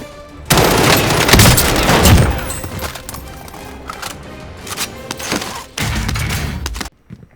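Gunfire in Call of Duty Warzone: repeated close, loud bursts of automatic shots and booming reports in two heavy volleys, with scattered single shots in between, ending abruptly.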